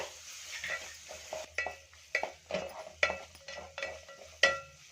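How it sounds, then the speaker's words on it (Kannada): Ground black pepper and sesame powder fry briefly in oil with a spicy gojju masala. A soft sizzle sits under a series of spoon scrapes and taps against the pan, spaced roughly every half second, close and fairly quiet. "ಇವಾಗ ಇದನ್ನು ಕೂಡ ಸ್ವಲ್ಪ ಫ್ರೈ ಮಾಡ್ಕೊಳ್ಳೋಣ"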